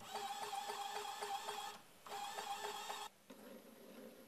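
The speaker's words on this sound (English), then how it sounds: "This motor from an old printer is more powerful." An old printer's geared motor runs in short bursts with a steady whirring drone and rapid ticking gear chatter, close and fairly quiet, stopping briefly between runs and then continuing at a lower, different pitch.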